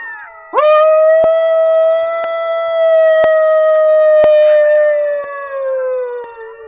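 Dogs out in open scrub country howl in a loud, sustained, wavering chorus that rises abruptly and holds for several seconds, with clicking ticks on top, heard close and without speech.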